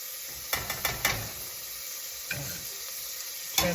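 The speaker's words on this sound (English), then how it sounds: "Our sausage is nicely browned, and you want to wait till it's no longer pink." Sausage browning in a hot pan, a soft continuous sizzle with several sharp clicks and knocks of a spoon against the pan in quick bursts, close and fairly quiet, no talking.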